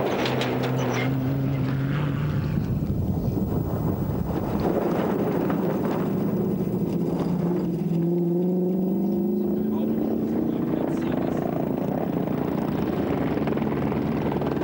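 A 19-litre Tatra rally truck racing a Nissan on the 1994 Paris-Dakar-Paris rally: loud, continuous engine drone whose pitch rises and falls as the trucks pass, with wind buffeting on the microphone and commentary over it.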